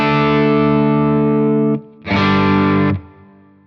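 Electric guitar through a Protein v4 overdrive pedal, a loud sustained overdriven chord that cuts off, then a second held chord ringing for about a second before stopping.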